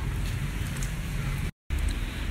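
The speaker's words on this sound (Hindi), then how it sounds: "तो ये देखें बहुत ज़्यादा बारिश हो रही है।" Heavy rain pouring steadily in a Pakistani village, a dense, even hiss of falling water that is close and constant, broken by one very brief silent gap.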